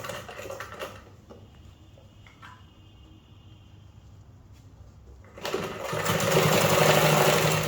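A sewing machine runs in short bursts while stitching a bubu dress, first quiet intermittent whirring, then a louder sustained close-up hum and rattle of fast stitching over the last couple of seconds, with no talking.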